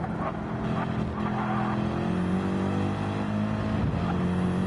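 A race car in a racing video game brakes hard on the Barcelona circuit, a steady loud engine drone with shifting tones and a brief tire scrub, continuous throughout without talk.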